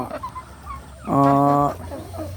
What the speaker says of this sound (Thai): ไก่หกเดือนกว่าเจ็ดเดือนนะครับ